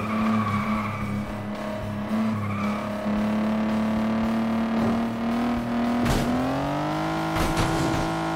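A car in the racing video game FlatOut 2 drives with a steady droning engine note, then its tires squeal and skid loudly near the end, with no talking.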